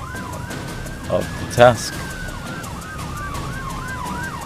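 Two police car sirens wail in Microsoft Flight Simulator, one with a slow rising-and-falling tone and one with a faster yelp, steady and prominent over a vehicle rumble, with a brief spoken voice.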